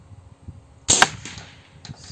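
An air rifle with a 600 mm Fiora barrel fires a single Slug Monster slug pellet, giving one sharp, loud crack over quiet background.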